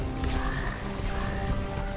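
Frogs croak in the video game Immortal Redneck, a layered chorus of pulsing, buzzy calls repeating continuously at moderate volume with no speech over them.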